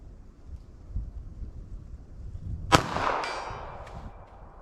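A single sharp crack from a .32 pistol fired outdoors, with a ringing, clanging tail and light wind noise around it.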